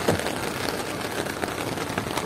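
Rain pours down outside a parked car during flooding, a steady hiss of drops drumming on the roof and surfaces, continuous and even with no voices over it.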